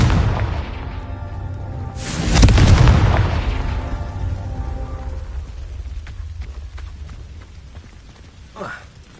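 A Confringo blasting spell explodes in Hogwarts Legacy: a loud, close boom with a broad rumbling roar that swells and then slowly decays, followed later by a faint smaller pop.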